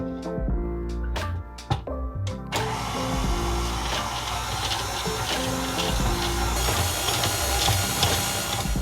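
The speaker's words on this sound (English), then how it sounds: "we'll bring it over to our mixer and mix it with our dough hook for about 5 to 7 minutes" A stand mixer with a dough hook kneads pastry dough, starting with a few knocks and clunks, then a steady, loud motor whir with rhythmic churning that carries on unbroken.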